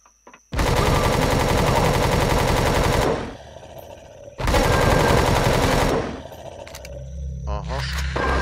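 Automatic gunfire in Empyrion Galactic Survival, two loud sustained bursts of rapid shots about two and a half seconds each, separated by a short gap, followed by fainter rumbling game sounds.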